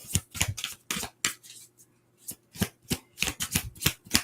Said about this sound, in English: this deck I gotta shuffle it like poker and Uno card